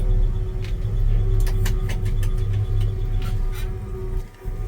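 Engine of a 1966 Chevy C10 pickup idling steadily inside a garage, a loud continuous low rumble with a few sharp clicks and taps over it before the note briefly dips near the end.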